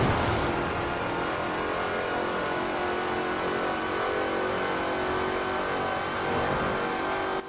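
A 2012 Shelby 1000 in the Forza Horizon 4 racing game holds a sustained, high-revving engine roar as it drives through a tunnel, steady and loud throughout with no voices.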